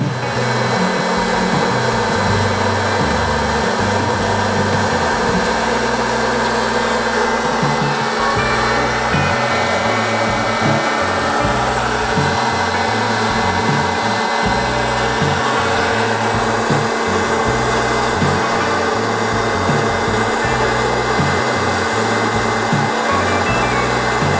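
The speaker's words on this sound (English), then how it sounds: "you're heating popcorn with the Poppery" A Poppery hot-air popcorn popper runs continuously, a loud, steady whirring blower roar with a faint rattling texture underneath, close and unbroken for the whole stretch.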